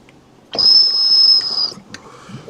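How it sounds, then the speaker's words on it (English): Directional carb cap on a dab rig gives a single shrill, steady whistle lasting about a second, loud and close against a quiet background. "that's my little directional carb cap here."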